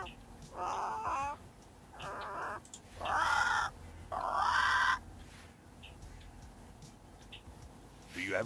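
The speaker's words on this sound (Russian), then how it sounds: "Слышь ты, птичка, свали отсюда." A bird in the video game Yaga gives harsh, drawn-out caws in several separate bursts, loud and close, with quieter game ambience in the gaps between calls.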